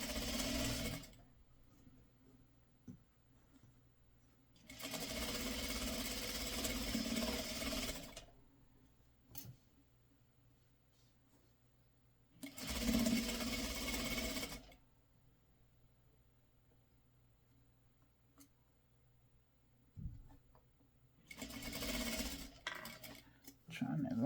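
A sewing machine stitches Santa quilt kit pieces in three separate bursts of rapid, buzzing whir, each lasting a few seconds and separated by quiet pauses with faint handling noises.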